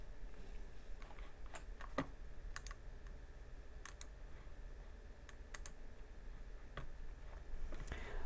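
Keys clatter on a computer keyboard in sparse, irregular clicks and short bursts during command-line work, close and fairly quiet over a low steady room hum.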